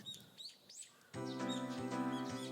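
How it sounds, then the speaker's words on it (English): Morning birds chirping in the Higurashi video game, a few bright separate tweets at first, then a denser layer of chirps over a steady, tonal ambient backdrop that comes in partway through. "When I woke up to the morning, sunlight and birds chirping"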